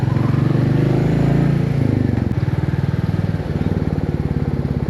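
A Royal Enfield Meteor 350 single-cylinder motorcycle pulls away gently in first gear, its loud, close thumping exhaust beat settling from idle into an even, steady rhythm.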